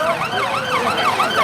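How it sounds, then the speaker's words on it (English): An ambulance siren wails past a street march in London, loud and close, its rising and falling tone cycling rapidly about every quarter second over traffic noise. "Oh, it's an ambulance."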